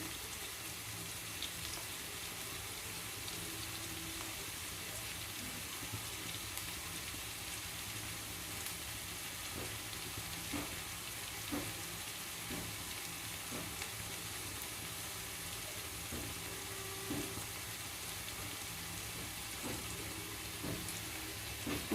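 Onions frying in a pan in a home kitchen, a steady soft sizzle running throughout with occasional faint clicks of stirring, no voices.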